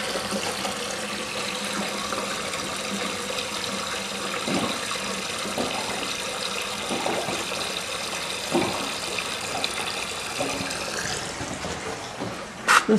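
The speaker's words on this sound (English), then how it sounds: "Let me turn off the water again." Water runs continuously in a 1963 Briggs toilet, a steady hissing, splashing flow close by, with a few louder sloshes and knocks toward the end.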